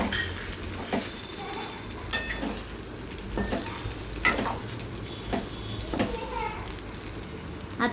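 Fried potatoes being stirred into a sago khichdi on a low flame, a soft continuous sizzle with periodic scraping spoon strokes against the pan, fairly quiet, with children's voices faintly in the background.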